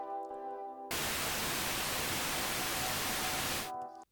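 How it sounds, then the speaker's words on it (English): Pink noise from the free Pink Noise plugin in FL Studio bursts in as a loud, even, broadband hiss lasting about three seconds, with a sustained synth pad tone before and after. "we got the Pink plugin and it's called Pink Noise"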